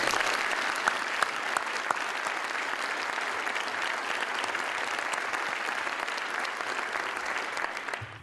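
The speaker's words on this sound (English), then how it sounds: "Let's have another round of applause for them." Steady, sustained audience applause fills a symposium hall on the future of higher education, a dense even wash of clapping lasting several seconds before tapering slightly at the end.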